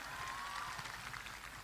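Audience applause at a religious lecture gathering, a faint, distant patter of clapping hands that carries evenly through the short stretch, with a thin tone faintly audible underneath.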